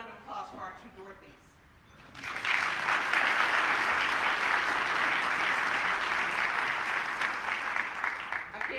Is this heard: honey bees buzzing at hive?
no